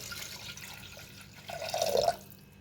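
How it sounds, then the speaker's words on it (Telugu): A glass of water is poured into a pressure cooker of mutton pieces with turmeric and a little oil, giving a short splashing gurgle that rises and stops after about half a second over quiet kitchen background. "1 గ్లాస్ వాటర్ పోసుకొని"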